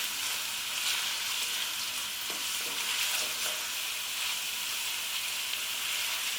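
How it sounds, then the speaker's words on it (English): Red onions and frozen garlic sizzle steadily in a hot pan while being stirred, a dense, even frying hiss that carries through without pause, no voices. "2 red onions and 2 blocks of frozen garlic. Straight in. Give them a good stir."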